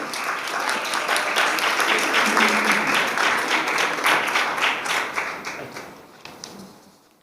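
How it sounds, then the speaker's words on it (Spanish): Strong, dense applause from an audience at an innovation awards event in Chile swells over the first seconds, then gradually thins and tapers off to a few scattered claps. "Un aplauso, por favor, bien fuerte."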